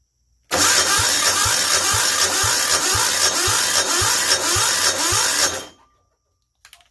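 A Yanmar L100 diesel generator engine cranks over steadily for about five seconds, a loud rhythmic starter churn with regular compression pulses that doesn't catch, then cuts off into silence.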